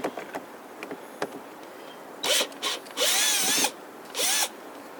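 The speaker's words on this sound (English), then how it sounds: "let me take the screws out" A power screwdriver backs screws out of a door handle on a Honda Odyssey: a few light taps, then four close, loud whirring bursts of motor whine, with no talking.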